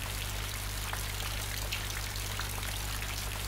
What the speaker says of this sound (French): Ça doit être pour ça qu'il pleut tout le temps.